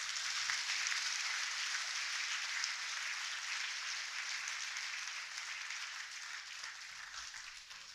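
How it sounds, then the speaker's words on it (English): Sustained applause from an audience after a speech at IIT Kharagpur's 68th Foundation Day, faint and steady, slowly fading toward the end without any voices. "A round of applause for him again."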